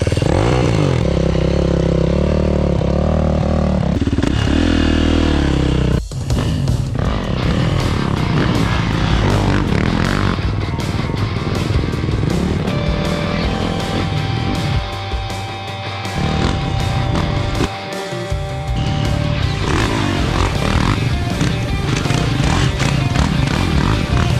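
A motorcycle on a muddy farm race track, its engine droning loudly and continuously with rising and falling revs throughout, close by and dominating the scene.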